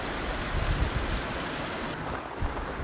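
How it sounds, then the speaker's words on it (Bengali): Heavy rainwater rushes and roars steadily after a day and night of stormy rain, a dense, continuous wash of water noise with no voices. "এমনভাবে জল আসছে, মনে হচ্ছে কেউ নদীর বাঁধ ভেঙে দিয়েছে"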